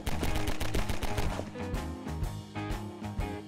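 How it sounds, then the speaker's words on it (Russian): Quick rhythmic gunshots crack out in Garry's Mod during a FNAF co-op maze round, a steady run of sharp close shots over a humming game music bed. "Я стреляю."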